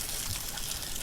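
Water runs from the shower head of a Camp Chef Triton 5L portable water heater, a steady, close hiss of spray with no pauses.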